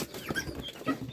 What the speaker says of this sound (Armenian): Բա մեր հավերը որտեղ պետք է ածին